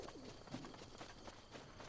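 Birds coo softly in the open world of the video game Zelda Breath of the Wild, a low repeated call set against steady ambient game background noise.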